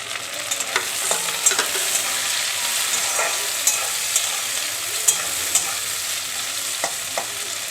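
Tomatoes fry in a pan with a steady close sizzle, broken by frequent sharp scrapes and clicks as a spoon stirs, for dal makhani.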